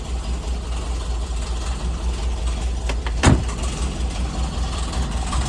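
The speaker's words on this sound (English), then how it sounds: "You can hear the engine running." A car for sale, with some light surface rust, idles steadily nearby as a low continuous engine rumble, broken by one brief knock partway through; no one talks.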